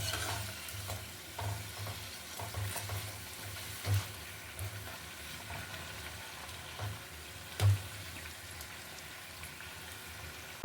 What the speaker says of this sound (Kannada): ಮೀಡಿಯಮ್ ಫ್ಲೇಮಲ್ಲಿ ಇಟ್ಟು ಇದನ್ನ ನಾನು ಬೇಯಿಸ್ಕೊಳ್ತೀನಿ. ಇದನ್ನ ತಿರುವಾಕ್ಕೊಳ್ಳೋಣ.